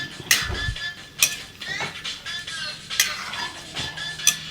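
Food is stirred in a cooking pan with a utensil, making sharp scraping strokes about once a second over a faint background sizzle, with no one talking.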